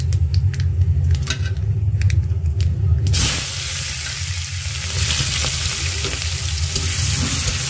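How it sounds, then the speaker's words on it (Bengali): Onions frying with nigella seeds in a pan of oil after a hilsa fish head was fried, a loud steady sizzle that swells sharply as they hit the pan and then holds a dense crackling hiss. "পেঁয়াজটা কিছুক্ষণ ভেজে নিব।"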